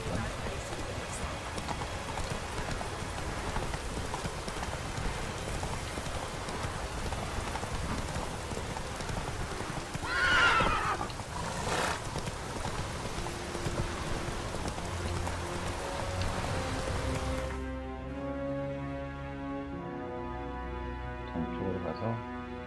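Hoofbeats of a horse running in The Witcher 3: Wild Hunt, a steady clip-clop under rain-like game ambience with a brief louder burst midway, before the scene cuts to quieter music-like tones near the end.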